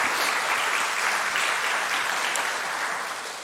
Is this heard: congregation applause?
yes